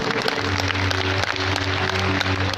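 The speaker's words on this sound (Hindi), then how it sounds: "जोरदार तालियों के साथ।" Audience clapping at a Hindi devotional gathering, a dense steady wash of many hands sustained throughout at even loudness, with a low droning tone running beneath.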